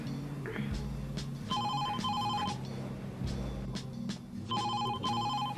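A telephone rings in repeated bursts of a bright electronic bell, three ring cycles over several seconds, fairly close, with a low background hum and some movement noise between rings.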